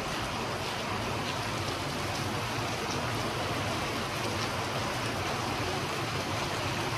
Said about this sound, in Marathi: तर जोरदार पाणी चालू आहे.